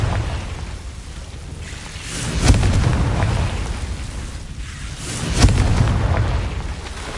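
Confringo blasting spells in Hogwarts Legacy go off twice, each a sharp crack swelling into a heavy rumbling explosion, a few seconds apart over a constant low roaring background.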